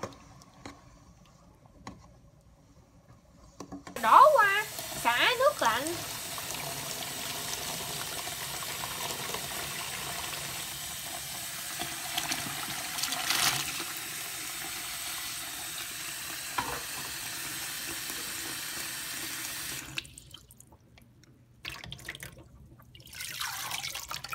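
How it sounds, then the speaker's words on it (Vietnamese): Water splashes and trickles as it is poured off soaking potato fries and replaced, with a steady running flow and bursts of sloshing and dripping, heard close by in a kitchen. "đổ nước ra rồi thay cho nước khác"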